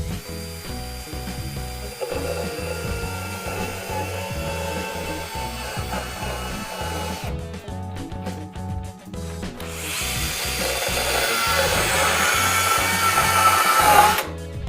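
A handheld power tool cuts a notch into a piece of wood, running loud and steady with a buzzing, grinding tone that shifts pitch briefly midway and then strains harder toward the end, with no talking.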